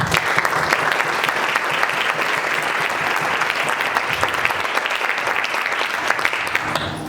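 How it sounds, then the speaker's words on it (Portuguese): Sustained audience applause fills an event hall at a business talk, dense and steady clapping from many hands for about seven seconds without a break, with no speech over it. "Salva de palmas"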